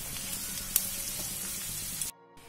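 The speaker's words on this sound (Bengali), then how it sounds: "পেঁয়াজটাকে প্রায় দু তিন মিনিট নাড়াচাড়া করে ভেজে নেব।" Chopped onion frying in a pan of hot oil for a bottle-gourd peel dish, giving a steady close sizzle with faint stirring scrapes, a brief sharp clink near the start, then cutting off abruptly.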